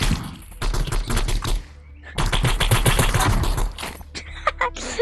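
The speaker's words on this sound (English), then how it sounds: "He was trying to use auto shotgun." An automatic shotgun fires in a first-person shooter game, with rapid, loud, punchy blasts in two dense bursts separated by a short pause, followed by a few scattered shots.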